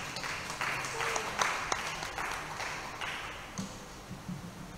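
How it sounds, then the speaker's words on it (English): Audience applause after a church talk on devotion to Our Lady of the Sacred Heart, thanking the moderator priest: a thin, scattered patter of moderate clapping from a small crowd, with a few sharper claps and faint background murmur. "a big round of applause for him"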